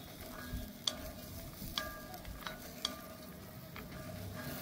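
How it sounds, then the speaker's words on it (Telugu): Mutton pieces frying in hot oil for dry mutton podi, with a steady close sizzle and a few sharp clinks of a metal spoon against the pan as it is stirred. "బాగా ఫ్రై చేసుకోవాలండి."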